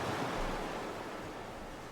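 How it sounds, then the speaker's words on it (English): Ocean wave water sounds from a track wash steadily as a soft, broad surf roar, continuous and even, heard alone without voices. "I like the repeated water sounds"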